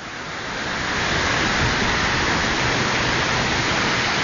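Roadside waterfall rushing at night in wet Taroko gorge, Taiwan: a loud, close, continuous broadband roar of falling water, steady from start to end with no voices.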